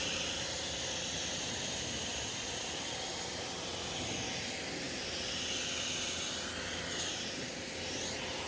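Pressure-washer spray rinsing suds off a ceramic-coated car after a contact wash: a steady, loud hissing rush of water that runs unbroken the whole time, with no talking.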